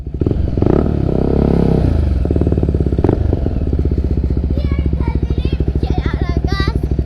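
An NK250 motorcycle fitted with an Akrapovic exhaust revs hard up close, then drops into a fast, pulsing, slightly crackling idle that carries on steadily to the end.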